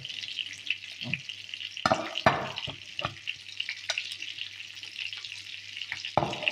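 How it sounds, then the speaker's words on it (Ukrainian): Beetroot salad tossed and mixed by hand, giving soft wet squelches and rustles with a few sharper clicks, close and moderately loud against a steady low hiss. "Я буду змішувати салатик."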